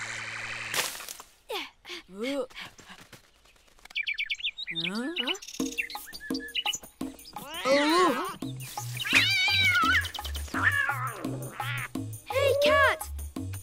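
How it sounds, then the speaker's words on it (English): A cartoon cat meows several times among chirpy bird-like calls and rising squeaks, then a rhythmic pulsing tone plays under animated voices, all close and clear with quick shifts between sounds. "Cat!"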